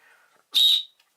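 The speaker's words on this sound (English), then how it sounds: "the whistle" One short, loud, shrill whistle blast used as a bicycle signal, close by, standing alone after a faint murmur in the background.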